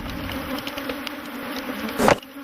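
African honey bees swarming around commercial beehives, a dense continuous buzzing hum close by with a brief louder burst near the end.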